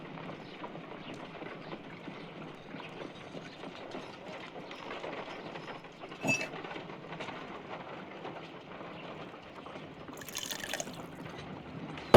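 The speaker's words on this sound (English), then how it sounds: "If I wish to shape the ice knife, then I need to pour water inside the mold." Water is poured into an ice knife mold in a Sherlock Holmes game, a soft continuous trickle and fill under faint background sound, with a brief clunk midway and a bright splash near the end.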